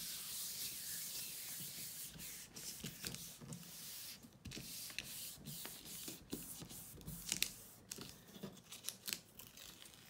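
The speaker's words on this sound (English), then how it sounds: "then I can put this paper on again and layer this. So I'm going to rub this on." Paper being rubbed by hand onto a Gelli printing plate to lift a layered print, a soft, continuous scratchy rubbing with brief swipes, close up and fairly quiet.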